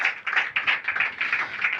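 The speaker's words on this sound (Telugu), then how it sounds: "చప్పట్లు కొడదాం అందరూ కలిసి." Congregation at a Telugu church sermon clapping hands together in steady, rapid unison, a dense run of claps sustained throughout without talk.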